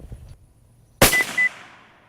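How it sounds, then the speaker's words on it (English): A single sharp rifle shot fired while zeroing a ZEISS Conquest V4 riflescope outdoors, a loud abrupt crack with a short ringing tail after a quiet lead-in. "Let's go ahead and at least get one more shot down range."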